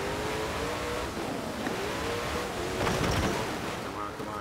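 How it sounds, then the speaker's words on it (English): A Koenigsegg hypercar driving on snow in Forza Horizon 4, its engine droning steadily throughout with a harmonic whine and a brief rough burst near the end, with a voice speaking over it. "how many people have driven a KOENIGSEGG in the snow and crashing into stuff at that?"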